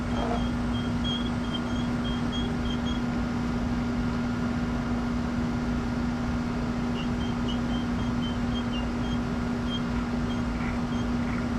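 An Echo GT225 string trimmer's small two-stroke engine runs at a steady, droning pitch with a constant hum and rough buzzing texture, continuous and fairly loud without speech.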